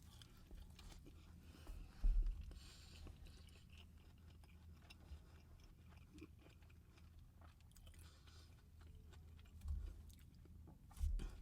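Someone chewing a filet mignon sandwich with caramelized onions, arugula and chipotle on butter ciabatta: quiet, close mouth sounds with soft wet chews and a few louder crunchy bites scattered through, no talk.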